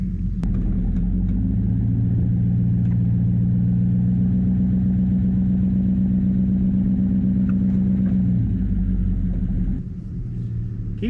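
A pickup truck engine strains under heavy load while its wheels spin as it pulls over a large ash tree. The deep, steady rumble is loud and close, then eases off near the end.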